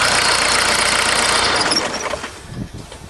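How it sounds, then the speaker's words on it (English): Old mechanically injected diesel engine of a caravan running with a loud, rattling clatter that fades out over the last second as it is shut off, leaving a few dull knocks. "an old-fashioned mechanical injected diesel engine"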